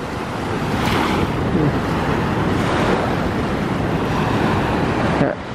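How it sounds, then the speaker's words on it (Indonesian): High ocean waves and strong wind on a beach at sunset, a loud continuous roar of surf with gusts buffeting the microphone throughout, swelling and easing slightly before a brief drop at the end. "ombaknya luar biasa tuh. Ombaknya tinggi."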